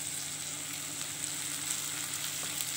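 Chopped cabbage frying in a pan for a dry mixed-vegetable sabzi, a steady, even sizzle throughout with no voices.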